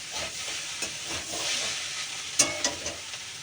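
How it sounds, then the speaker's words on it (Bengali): Pasta is stirred in a hot pan, a steady sizzle and hiss with soft scraping, then a few sharp clinks of the utensil against the pan near the end, with no talking. "নেড়ে নিচ্ছি।"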